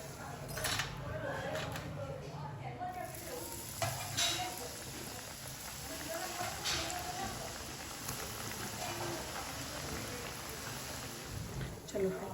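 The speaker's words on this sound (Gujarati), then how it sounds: "હાથથી લઈ અને આમ અંદર તેલમાં મૂકી દેવાની." Gluten-free chakri spirals deep-fry in hot oil with a steady sizzle and occasional clinks of a utensil, while a voice talks over the frying.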